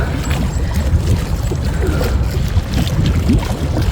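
Dâmbovița river in Bucharest flowing steadily, a close, continuous rushing and splashing of water with no voices.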